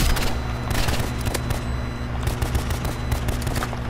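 Burst rifle gunfire in a video game match, rapid clustered shots rattling over a dense, steady background of game sound effects, loud and close throughout.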